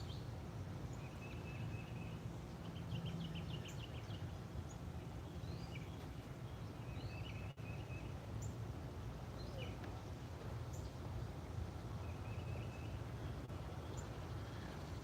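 Small birds chirp and trill faintly at a distance at the Audubon Acres Bird Sanctuary, picked up by a live outdoor camera microphone over a steady low hiss and rumble.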